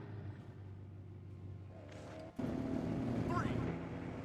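Fast Peregrine car in a vehicle simulator game, its engine a steady low rumble that swells louder partway through as the car gets going, with faint higher whines over the top.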